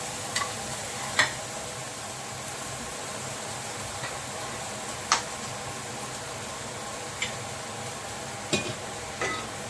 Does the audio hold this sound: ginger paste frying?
yes